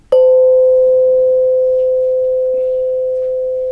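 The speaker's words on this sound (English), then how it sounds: "we invite the sound, the bells, the sound like this." A meditation bell is struck once in a classroom, giving a single clear, pure ring that sustains and slowly fades over several seconds in a quiet room.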